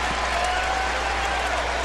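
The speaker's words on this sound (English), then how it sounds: "Crowd rises probably to give both teams a hand" A basketball crowd in a Louisville game against Bellarmine gives both teams dense, steady applause for the full short stretch, loud and even with no pauses.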